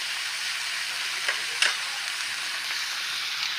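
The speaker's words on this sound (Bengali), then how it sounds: "আলুগুলো ভাজতে থাকি লাল লাল করে।" Potatoes frying in a pan for a fig-based dal dish, a steady broad sizzle with a couple of brief sharper crackles and stirring bursts, close and continuous throughout.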